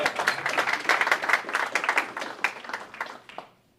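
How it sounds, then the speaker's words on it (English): An audience claps after a startup pitch at a breakfast event, a brisk close burst of applause lasting a few seconds before thinning out and stopping. "Clap. Time to clap."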